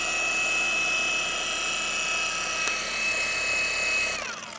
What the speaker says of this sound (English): Just making sure that I'm tilting the polisher